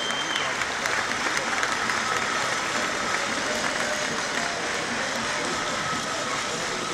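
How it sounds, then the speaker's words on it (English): Audience at the Bocuse d'Or final in Lyon, 2015, applauding the young cleaning staff, a continuous hiss of many hands clapping with faint crowd murmur, even and sustained throughout. "Et on peut les applaudir, ces jeunes femmes et ces jeunes hommes qui ont vraiment donné d'eux-mêmes."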